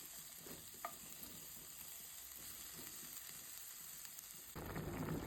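Onions fry in a pan as the base for chicken with mushroom and chestnut, a faint, steady sizzle with occasional stirring scrapes that swells louder near the end.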